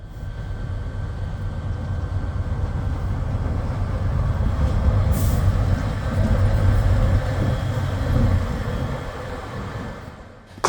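Colas Rail Class 70 freight locomotive 70811 passing, a loud, steady low rumble and roar that swells through the middle and fades slightly toward the end, with no talking.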